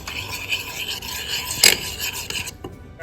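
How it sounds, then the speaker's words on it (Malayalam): A spoon scrapes and rasps against a pot while kovakkai and raw mango curry is mixed, with steady rubbing strokes and one sharper scrape midway, close up and without speech. "നന്നായിട്ടൊന്ന് അതൊന്ന് മിക്സ് ചെയ്ത് കൊടുക്കാം കേട്ടോ"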